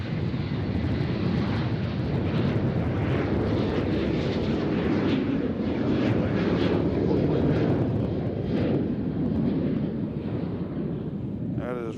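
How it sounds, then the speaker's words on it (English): A VistaJet Bombardier Global 6000 business jet at Nashville International Airport, a steady, fairly loud jet roar with some wind buffeting on the microphone and faint voices underneath. "That is VistaJet, flight 850, Bombardier Global 6000"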